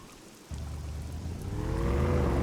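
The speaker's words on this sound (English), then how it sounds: "I'm gonna turn on the motorboat and we're gonna drive through these waves." Motorboat in the survival game SCUM starts at about half a second and drives through waves in the rain, its engine drone close and steady, rising in pitch and loudness as it speeds up, with water rushing underneath.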